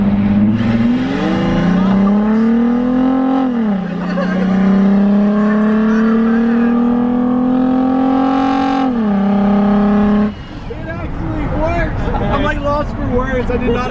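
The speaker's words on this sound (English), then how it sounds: "My truck does not get to 100 that fast." A pickup truck fitted with a Milwaukee blower as a supercharger accelerates hard, its loud engine note climbing through gear changes with a rising whine, then dropping off as it eases; people talk over parts of it.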